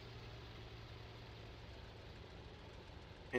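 A Bf 109 fighter's piston engine idles low and steady after landing in a flight game, a quiet even rumble with a faint rhythmic beat.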